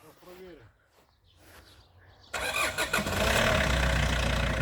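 An old car engine cranks and catches partway through, then settles into a loud, steady warm-up idle; a few quiet voices are heard before it starts.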